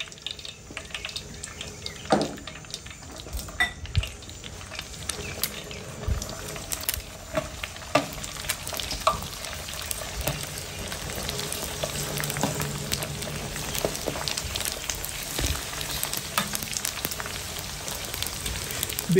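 Pork rinds (chicharrones) fry in a pot of hot oil, giving a steady, dense crackle and sizzle like rain, with scattered louder pops throughout and no talking.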